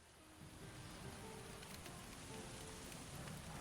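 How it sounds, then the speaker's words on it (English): Steady, even rain pours in a city builder game on a cloudy day. The dense hiss stays at the same loudness throughout, with no talk over it. "That's nice weathering effect for the rainy, cloudy day."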